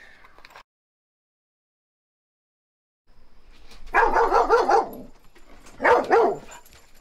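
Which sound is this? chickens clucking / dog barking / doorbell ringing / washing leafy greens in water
dog barking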